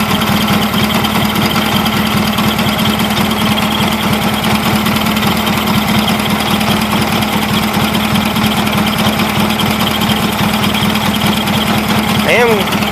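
A Gravely 8199 KT tractor engine idles steadily and loud up close, a continuous rapid mechanical chug that never lets up, with a voice talking over it.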